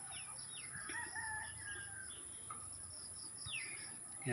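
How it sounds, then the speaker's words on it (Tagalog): Native chickens cluck and call in short bursts at a moderate distance on a farm, with a rooster-like crow and faint outdoor background hiss. "Mga native na manok."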